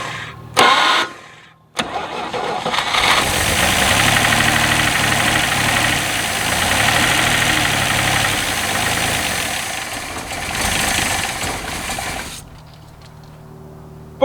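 An abandoned 1967 GMC C20 pickup with a once-stuck big block 305 V6 cranks and fires, then runs at a rough, loud idle with a steady rhythmic throb and a brief rev before cutting off abruptly.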